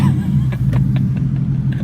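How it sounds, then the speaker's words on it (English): A modified 2018 Ford Mustang GT making 470 wheel horsepower rumbles at light throttle while driving, its deep exhaust burble steady and close beneath voices talking inside the car. "I'm barely like one toe on the gas pedal so that I don't scare the crap out of these people with this exhaust."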